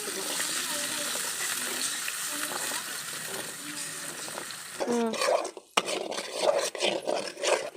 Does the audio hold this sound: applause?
no